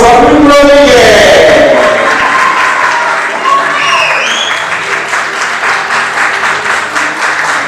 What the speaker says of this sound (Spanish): recibamos con un fuerte aplauso a Luis Rodríguez